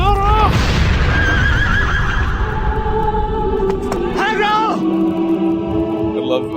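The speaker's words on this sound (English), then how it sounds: "love the Doppler of a horse falling off the cliff" A horse whinnies with a long, wavering cry that drops in pitch as if falling away, followed by a second shrill neigh, with a voice talking over it throughout.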